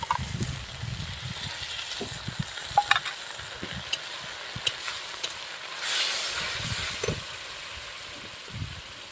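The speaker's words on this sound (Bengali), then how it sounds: "এবার আমি মশলাটা ভালো করে কষিয়ে নেব" Spice paste sautéing in a pan for a whole fish curry, a soft sizzle under a spatula stirring and scraping in irregular strokes, with a brief louder hiss partway through and no talking.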